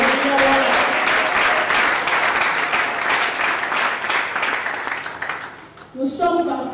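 A church congregation at a seminar in Likasi applauds and cheers in a sustained, loud wave of clapping that fades toward the end, followed by a voice speaking briefly.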